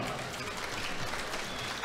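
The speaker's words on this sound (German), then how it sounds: "nochmal großen Applaus für beide Kämpfer" Applause for both boxers at the end of a fight night bout, a steady, even wash of clapping from the arena crowd that stays at an unchanging level throughout.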